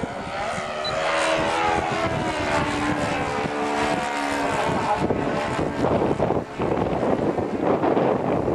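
Radio-controlled model airplane performing inverted 3D aerobatics, its propeller engine droning steadily and loud throughout, with heavy wind buffeting on the microphone and a rougher, gusty stretch near the end.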